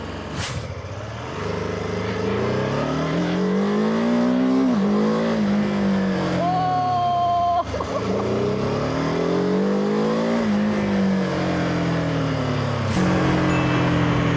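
A BMW F450GS motorcycle engine revving hard to around 7,500–8,000 RPM while riding, rising and falling through the gears in a loud, continuous close-up drone, with a whining pitch swelling through repeated acceleration runs.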